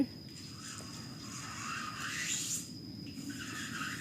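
Steady rasping scrape on a door during bathroom construction, continuous and fairly close for the whole stretch, with no one talking.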